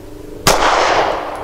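A single sharp Sig P365 XL pistol shot cracks close by, firing a 147-grain Federal Syntech Training Match load, then decays into a brief outdoor echo after a quiet start.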